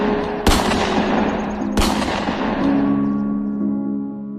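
Gunfire rings out as two loud, sharp shots about a second apart, each leaving a long reverberant tail that decays into a low lingering hum; no voices are present.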